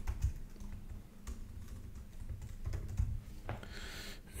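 Continuous clatter of keystrokes on a computer keyboard, close and fairly loud, with uneven rhythm and no voices.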